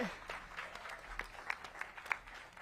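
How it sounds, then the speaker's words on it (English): Audience applause at the opening of a music venue in Washington DC, faint scattered clapping from a crowd, light and uneven with a few sharper individual claps. "okay, you can clap"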